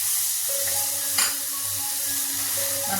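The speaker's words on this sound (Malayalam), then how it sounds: "ഇതിലേക്ക് ഞാൻ രണ്ട് ചെറിയ തക്കാളിയും കൂടെ ചേർത്ത് കൊടുക്കുന്നുണ്ട് അതും കൂടെ ചേർത്ത് നല്ലതുപോലെ തന്നെ വഴറ്റിയെടുക്കാം" Onion and tomato sautéing in a pan, a steady sizzle with stirring scrapes and one sharp clatter midway, close and with no talk.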